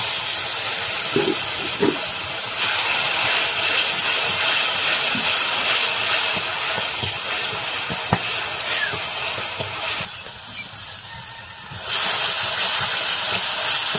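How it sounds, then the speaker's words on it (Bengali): Water poured onto frying spice masala in a pan for a snakehead fish curry sets off a steady loud hiss and sizzle, close and continuous, with a short dip then a return. "সামান্য একটু জল দিয়ে দেবো।"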